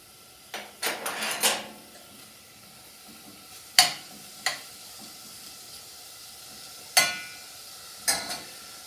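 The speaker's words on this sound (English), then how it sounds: "And the bacon is starting to fry out nicely" Bacon fries in a pan on a fuel-burning stove, giving a faint continuous sizzle broken by several sharp, close clatters of utensil against pan that die away quickly, with no talking.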